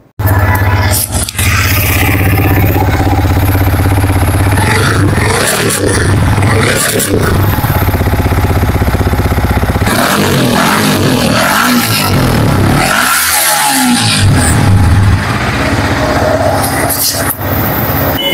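A Yamaha R15M sport motorcycle engine runs loud and close for a long stretch with a steady low rumble, surging several times as the throttle is revved.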